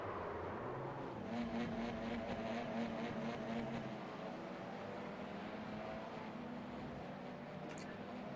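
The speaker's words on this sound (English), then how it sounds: "the drivers working to warm up their tyres and brakes and all of the other mechanical components" Race cars warming up their tyres and brakes at the Barcelona circuit in a racing video game, heard as a distant, steady engine drone that swells briefly, with a short sharp tick near the end and no talking.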